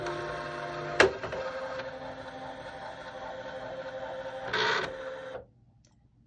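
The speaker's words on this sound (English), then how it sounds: "So I just click OK and it will begin to calibrate. It means the embroidery arm will move." Mechanical whirring and hum of a Husky Diamond Royale sewing machine's embroidery arm moving through calibration, with a sharp click at the start, a louder motor burst near the end, then a stop.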